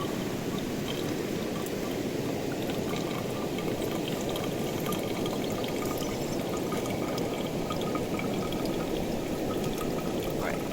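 Filtered water streams steadily into a 32-ounce Nalgene bottle, a constant close splashing pour that holds an even level for the whole stretch.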